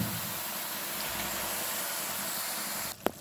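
Malabar spinach (pui shak) being stir-fried in a pan, a steady close hiss and sizzle that continues throughout, ending with a brief clink.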